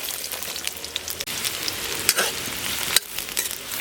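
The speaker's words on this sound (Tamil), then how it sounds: "நல்லா பச்சை வாசனை போக வதக்கிக்கிறேன்." Three large finely chopped onions fry in a pan for hariyali chicken, giving a steady close sizzle with small crackles and occasional stirring scrapes, no voices.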